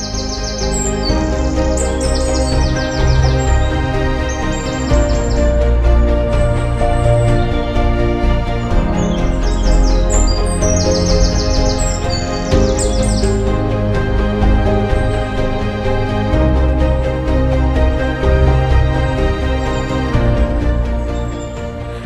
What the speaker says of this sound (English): Kaziranga, a home to different species of birds.